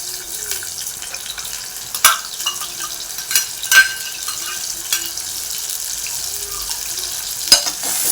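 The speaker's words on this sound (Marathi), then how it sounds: "तेल गरम करून त्यामध्ये कांदा दालचिनी आणि तमालपत्र" Onion, cinnamon and bay leaf sauté in hot oil over medium heat for an egg curry, a soft continuous sizzle broken by occasional sharp clinks and stirring scrapes, with no talk.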